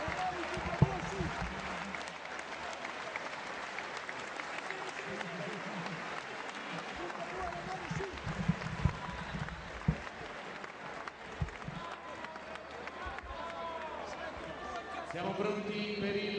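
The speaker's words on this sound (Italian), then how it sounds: "gli applausi del pubblico." A boxing match crowd applauds steadily at ringside, a distant broad wash of clapping and murmur with occasional sharper thumps and shouts breaking through.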